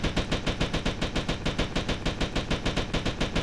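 Loud, steady automatic gunfire from a submachine gun in GTA Vice City, shots rattling off in a fast even rhythm with no break.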